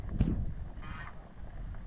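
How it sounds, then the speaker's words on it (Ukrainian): A gander honks once, a short loud call near the start, in an evening park by the Tisza river, followed by quieter outdoor background noise. "Тут гусак хоче щось сказати."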